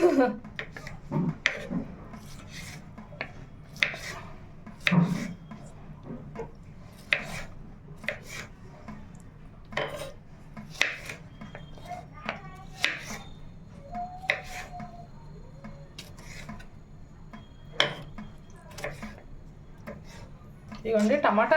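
A knife chops vegetables for tomato pickle in a home kitchen, making irregular, close taps and thuds on a cutting board. Someone talks steadily throughout.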